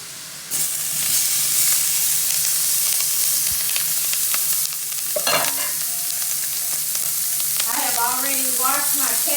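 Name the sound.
onions and peppers frying in bacon grease in skillet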